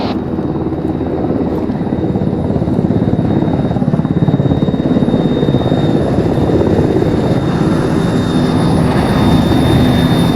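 A helicopter in the ArmA 3 military game flies with a loud, close, continuous rotor and engine drone that holds steady throughout, with no talking.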